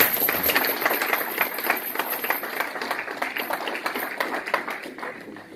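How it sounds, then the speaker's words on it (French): A church congregation claps at a Sunday service, a steady run of many hands patting in brisk, close rhythm for the children, dense and fairly loud throughout with no voices over it. "Applaudissons plus fort pour les enfants."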